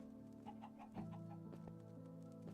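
A group of chickens in Minecraft gives a run of quick, quiet clucks that sit low beneath a constant tonal background, without any speech.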